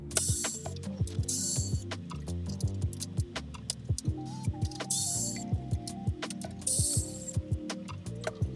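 A screwdriver ratchets screws out of a Super Nintendo main board, with repeated clicking pawl sounds and bursts of turning, close and clear, with no talk.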